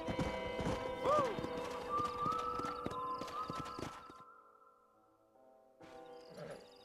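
Stallion in the video game Red Dead Redemption clip-clops at a rapid gallop and lets out a rising whinny, hooves thudding steadily before fading out, a brief shout from a man heard early on.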